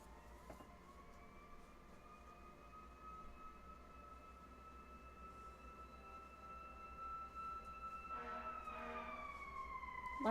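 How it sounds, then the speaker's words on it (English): A wailing siren from passing fire engines at night holds a long steady tone for about eight seconds, then rises and shifts pitch near the end, moderately distant over a low background hum. "lots of fire engines tonight."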